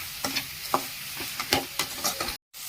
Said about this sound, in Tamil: அவ்வளோதான், நல்லா கிண்டுவோம்.